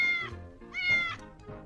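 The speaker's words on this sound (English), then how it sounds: "Did that bird just meow?" A black and white cat meows twice, loud and close, with a drawn-out, wavering tone, the second call rising higher.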